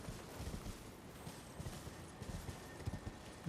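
Hooves of a horse knight's mount clop in Elden Ring, quiet irregular thuds over a dim, noisy game background, with no speech.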